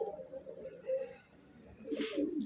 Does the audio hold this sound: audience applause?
no